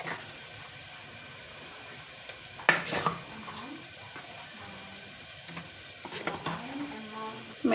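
Mutton chops being mixed with spices in a pan, giving soft scraping stirs and light sizzling with a few clinks of a spoon against the vessel, close by.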